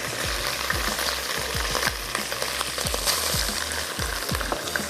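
Steady sizzling of garlic and bay leaves frying in hot oil, with continuous crackle and scattered pops throughout, no talking.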